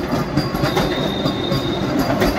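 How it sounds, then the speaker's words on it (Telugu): A short Vande Bharat train rolls past at close range, a loud continuous rumble and rattling clatter of carriages filling the whole stretch without any talk. "ఇప్పుడే మనకు వందే భారత్ అయితే వచ్చింది గైస్."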